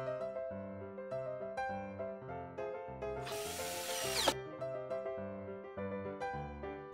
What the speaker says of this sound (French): D'abord le prépercage et ensuite le vissage.